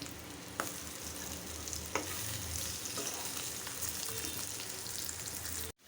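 Taro (kochu) frying in a pan gives off a steady, close sizzle, with a couple of sharp stirring clacks and no talking until it cuts off abruptly at the end.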